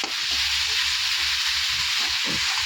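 Ginger and garlic frying in a pan while being stirred until browned: a loud, steady sizzle with a dense hiss that runs without a break, plus a few soft scraping touches underneath.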